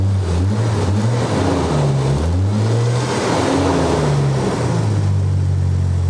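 A Jeep XJ Cherokee engine is revved up and down several times, its pitch rising and falling in close, steady waves, loud and alone.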